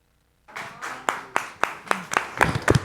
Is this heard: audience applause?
yes